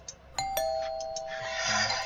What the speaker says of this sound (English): Paul is still at the door ringing that damn doorbell.